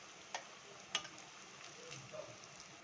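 Wheat-flour-coated suiyan sweet dumplings frying in hot oil, a soft, quiet sizzle with a couple of faint clicks near the pan, heard alone.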